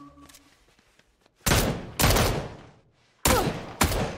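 Gunfire in the video game PUBG: four loud, sharp broadband shots in two pairs, coming after a quieter stretch of low game noise and faint clicks, with no talk over them.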